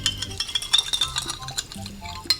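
Cabbage and glass noodles being stirred with seasoning in a pan, with repeated scraping and clinking of a utensil against the pan and a light sizzle, close and uneven in rhythm.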